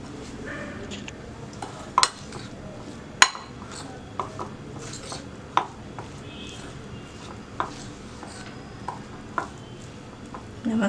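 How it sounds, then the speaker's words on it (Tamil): Banana blossom batter is mixed in a bowl, heard as soft, close squelching and stirring with several sharp clinks of a utensil against the dish, spread irregularly throughout, with faint talking in the background. "இதை கலக்கி விடுங்க."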